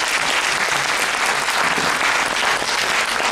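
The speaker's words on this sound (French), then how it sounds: "je vous propose encore une fois d'applaudir Aurélien." Audience applauding a lecturer after a talk on a pillar of Amiens Cathedral under Charles V, steady dense clapping throughout at moderate level from a room full of listeners.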